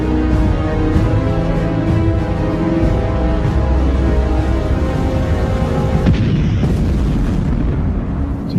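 Sustained, loud wartime explosion din from a tank battle in the Belgian Ardennes, a dense roaring rumble that shifts in texture partway through, with no voices.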